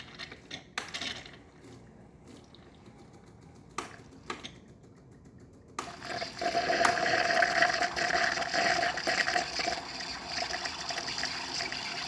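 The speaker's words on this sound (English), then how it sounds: "it's going to start pushing water through the one of these valves that are located around here, and it's going to siphon the water from here into the cup." A Gaggia Babila espresso machine starts quietly with a few clicks and taps, then its pump comes on and pushes water into a cup with a steady hiss and trickle, close and fairly soft.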